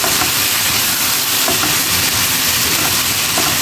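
Vegetables, including carrots, sizzle in a pan after water is added, giving a loud, steady hiss of frying and steam that runs unbroken for several seconds with no talking.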